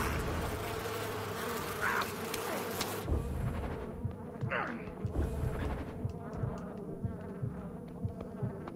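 Insect buzzing of bees in the video game Far Cry 5, a steady droning swarm heard throughout, louder in the first three seconds, then thinner with small clicks and thumps.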